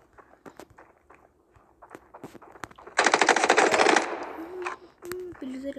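Rapid automatic gunfire in a shooter video game, a dense loud burst lasting about a second amid quieter clicks and footsteps, with faint talk in the background.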